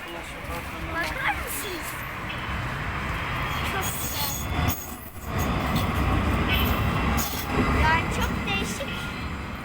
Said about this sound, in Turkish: Tramvay gidiyor.